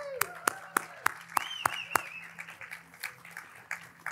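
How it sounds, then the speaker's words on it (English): At a design awards celebration, a few people clap in a sparse, regular rhythm, the sharp claps coming roughly twice a second, while voices and whoops carry through a quiet room. "Please give them all a round of applause."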